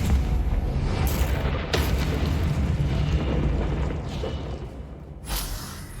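Confringo fire spell cast in the Hogwarts Legacy video game, a dense continuous explosive roar with booming low rumble and a couple of sharp bursts, loud and sustained throughout.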